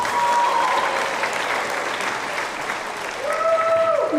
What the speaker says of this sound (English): Big round of applause for McKenna.